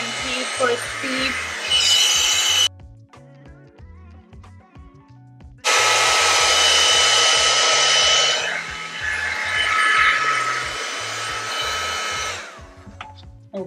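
A T3 Airebrush Duo Styler hair dryer brush on heat level 3 blows with a loud, steady whoosh in two long bursts, switching off briefly in between, with a low rhythmic beat underneath.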